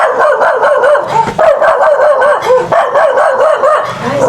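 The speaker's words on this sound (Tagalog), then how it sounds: "Nagulat ako, may aso pala." A dog barks and yips repeatedly up close, loud and agitated, with a quick run of excited barks.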